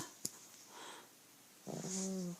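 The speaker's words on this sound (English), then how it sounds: "that's my dog snoring" A pet dog snoring nearby in a quiet room, a short breathy snort followed by a drawn-out nasal, wheezy snore, fairly faint and heard alone.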